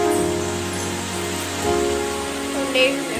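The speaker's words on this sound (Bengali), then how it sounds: "বাইরে বৃষ্টি এসে গেছে" Steady rain falling outside, a dense even hiss of drops on surfaces with a low hum underneath and no talking.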